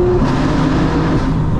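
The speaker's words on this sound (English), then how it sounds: "let's give it a little bit of gas underneath this bridge and see what it sounds like at redline." A 2025 BMW M4 Competition xDrive engine revs hard toward redline beneath a bridge, a loud, steady, close engine roar holding high throughout a brief burst.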